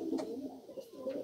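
Racing pigeons in a loft coo softly and close by, a couple of low throaty calls over quiet background.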